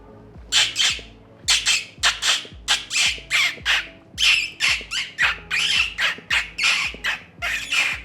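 A man imitates a parrot with a rapid series of sharp, shrill squawks in quick bursts, close and loud, repeating with short gaps throughout.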